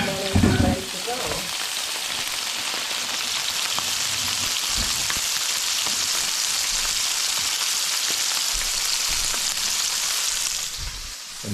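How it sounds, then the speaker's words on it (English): Food fries in oil in a pan, a steady close sizzle and crackle lasting throughout, with a few soft clatters near the start and no one speaking. "So we're gonna put this in here. And then we're gonna cook it for like a few minutes on each side."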